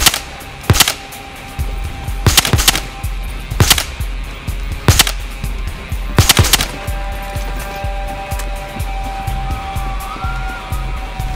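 Battlefield Hardline gunfire, sharp shots in quick pairs and singles scattered across the scene over a steady engine rumble.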